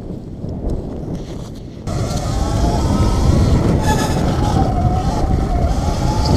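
Surron Light Bee electric motorbike in motion, a constant whirring and rushing drone. Braking comes in partway through as a louder surge with a thin squeal, heard close up under wind.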